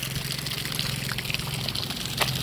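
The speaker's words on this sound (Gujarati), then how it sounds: "નાની મોટરનું ફૂલ પાણી જાય" Water pours steadily from a small motor pump's outlet, a continuous splashing rush close by with a low mechanical hum underneath.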